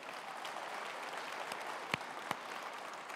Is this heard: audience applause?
yes